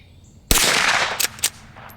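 A single sharp shot from a Rossi Gallery pump-action rifle fired at steel target plates outdoors, followed by a couple of faint metallic pings, with no talking.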